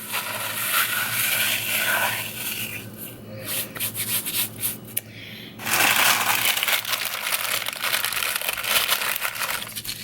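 A handful of meatloaf mixture with quinoa is crumbled by hand, a close, continuous soft rubbing and crinkling with a brief quieter pause midway.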